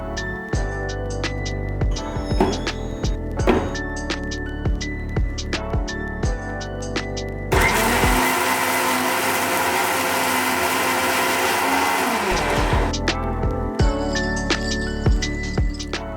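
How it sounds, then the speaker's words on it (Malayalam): Mixer grinder blending grated coconut with water into a smooth paste for a Kerala-style fish curry, a loud roaring burst of about five seconds, framed by clinks and knocks of the jar and lid before and after. "ഇനി മിക്സിയുടെ ജാറടച്ച് ഇത് ഒന്ന് അരച്ചെടുക്കാം"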